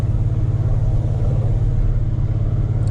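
A Dodge Challenger ScatPack fitted with long tube headers rolls downhill in first gear at low speed. Its exhaust gives a steady, loud, deep rumbling idle burble close by, with no pops and no talk.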